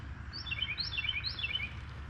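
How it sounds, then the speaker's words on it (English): Several small birds chirp outdoors in quick, bright repeated phrases, fairly close and clear over a steady low background hum, with no talking. "Man, the birds are noisy today,"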